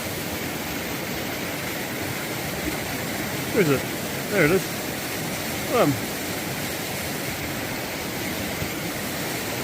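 A river swollen after torrential rain rushes with a steady, broadband roar that fills the whole stretch, while a person speaks briefly over it in a few short bursts.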